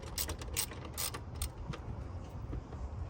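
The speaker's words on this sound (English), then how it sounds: "We'll tighten this bracket back up." A ratchet tightens a bracket bolt during an intercooler install, giving a run of quick, fairly quiet clicking bursts at close range over a steady low background hum.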